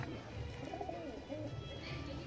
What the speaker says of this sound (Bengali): এরকম পায়রা তুলে আনলাম